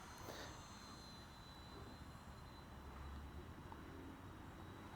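An iFlight Defender 16 drone flying in a park, its motors giving a steady, loud whine with a thin high tone over constant broadband roar, heard from a moderate distance with no talking.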